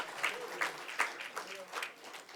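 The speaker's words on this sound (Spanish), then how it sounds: "Denle un aplauso a Jesucristo" Congregation clapping during a church sermon, a fairly faint, brief patter of applause in a room.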